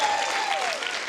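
An audience applauds at an evening teacher-appreciation event, a dense steady patter of many hands clapping throughout the short stretch, with no voice over it.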